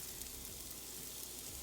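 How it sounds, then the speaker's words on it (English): Shallots frying in a pan give a steady, soft sizzle with a hissy crackle that carries on without a break. "that is the perfect sizzling sound"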